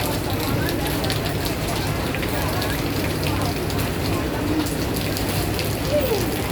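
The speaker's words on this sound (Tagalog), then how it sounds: "ang lakas ng ulan." A constant, heavy downpour at an outdoor market in Tai Po hisses and patters loudly on surfaces nearby, a continuous wash of rain with faint voices mixed beneath it.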